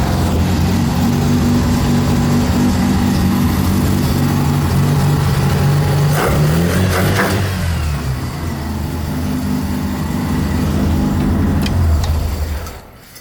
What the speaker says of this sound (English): So now the car turns on way faster.